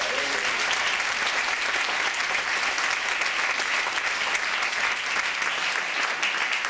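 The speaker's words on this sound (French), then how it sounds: "Allez, on peut applaudir encore" Sustained audience applause after a big band concert, a dense even roar of many hands clapping that holds steady without a break, close and fairly loud, with no one speaking over it.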